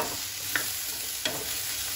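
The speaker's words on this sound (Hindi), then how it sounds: "इसे चलाते हुए हम दोबारा से 1 मिनट के लिए इन सब्जियों को पका लेंगे।" Vegetables being stir-fried in a hot pan, heard as a continuous close sizzle with two soft scrapes from the stirring utensil, with no talking.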